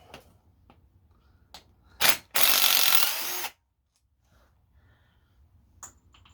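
An impact gun hammers at bolts on a Honda H22A4 engine being torn down, with short bursts followed by one sustained loud rattling run of about a second, then quiet.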